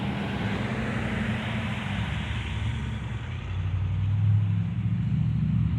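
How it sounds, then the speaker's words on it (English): Heavy vehicles rumble past close by, a steady low roar of engines and tires that swells slightly near the end, with no talking. "Wait for these trucks to go by."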